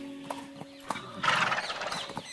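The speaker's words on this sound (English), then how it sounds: "please take my finest horse" Horse in an audiobook soundscape gives a few hoof clops and then a loud, drawn-out whinny, close and clear over a faint tonal hum, with no talking.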